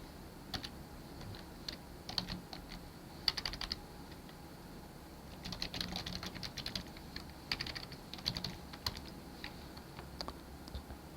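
Light typing on a computer keyboard while working in Inventor CAD software, with faint scattered key clicks in small clusters over a quiet background hiss.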